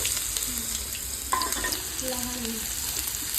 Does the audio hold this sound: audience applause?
no